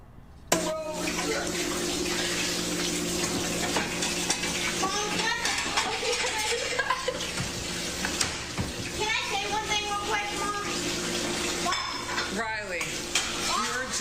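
Water runs steadily from a tap while a kid loads dishes, with occasional clinks of plates and pots over the rush and voices talking throughout.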